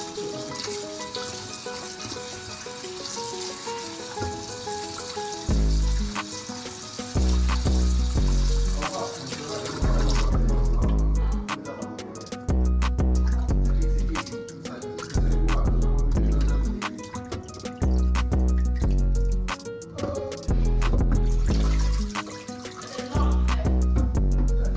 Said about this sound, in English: So now I am washing the ingredients.